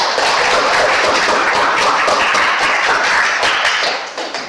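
A classroom group claps for fellow students, a dense, loud burst of applause that holds steady for several seconds before thinning out and fading, with no voices over it.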